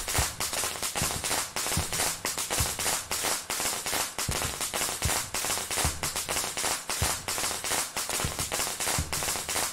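Rapid, continuous crackling bursts of firecrackers popping loudly in dense irregular clusters in the horror game Shadow Corridor, with no pauses for the whole stretch.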